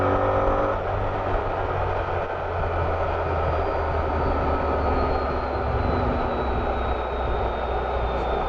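Honda ST1300 Pan European motorcycle engine under way, a sustained, loud mechanical drone with a faintly shifting pitch and steady rushing noise, with no speech.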